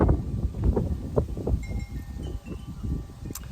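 Cold autumn wind buffets the microphone outdoors, a low rumbling, gusty roar rising and falling in uneven surges throughout, fairly loud, with no talking.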